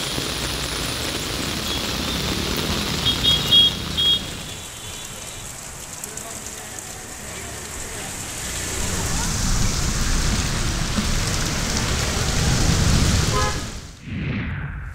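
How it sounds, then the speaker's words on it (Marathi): Heavy pre-monsoon rain with gusty wind at the Saptashrungi hill shrine near Nashik, a dense continuous wash of rain on surfaces, swelling louder toward the end before cutting off abruptly. "वादळी वाऱ्यासह जोरदार पावसाने हजेरी लावली आहे।"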